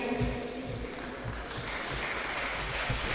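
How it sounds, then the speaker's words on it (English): Audience applause at a literature festival, a steady wash of clapping from a crowd filling the whole stretch, with faint voices mixed underneath. "Please give them a big round of applause."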